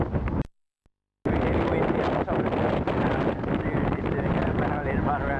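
Strong wind buffets the microphone at the top of a tower, a loud, steady roar that drops out briefly near the start and then roars on without a break.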